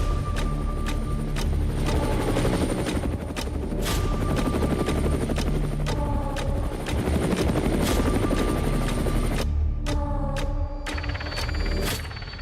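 A military light combat helicopter flies steadily and loudly throughout, its rotor chop and turbine whine continuous, with a few sharper sound changes toward the end.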